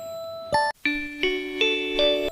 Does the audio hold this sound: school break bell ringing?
yes